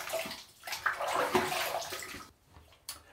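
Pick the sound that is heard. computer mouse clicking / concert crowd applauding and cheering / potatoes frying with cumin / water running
water running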